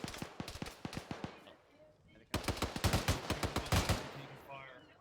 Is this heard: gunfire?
yes